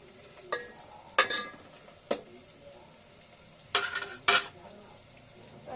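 Onions frying in a pan, a faint steady sizzle under several sharp metallic scrapes and clanks of a utensil stirring against the pan.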